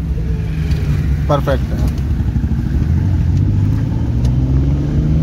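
Engine of a car creeping slowly in first gear during a driving lesson, a low steady hum under an instructor's voice speaking briefly, continuous throughout.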